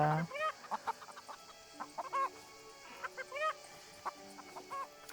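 Chickens cluck in the farming video game Everdream Valley, a quick series of short clucks and squawks at moderate level, some overlapping, with no talk.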